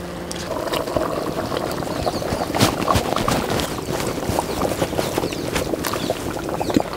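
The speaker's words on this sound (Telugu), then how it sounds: "ఇప్పుడు ముందు ఉడకబెట్టుకున్న రైసు, కందిపప్పు వేసేసుకుందాం" Cooked rice and toor dal tipped into a pot of boiling sambar with drumstick pieces on an outdoor farm fire, giving soft pouring, plopping and bubbling splashes with scattered clinks, fairly close and steady.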